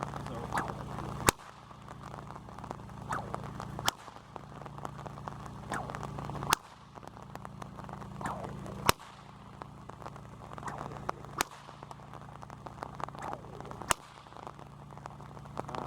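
Loud cracks of a Rattler whip snap at regular intervals, roughly every two and a half seconds, over a constant patter of rain.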